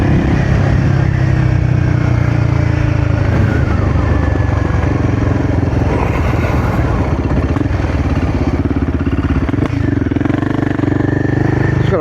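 A Royal Enfield Guerrilla 450 motorcycle engine runs steadily up close, its exhaust rumbling and popping throughout with slight rises in revs.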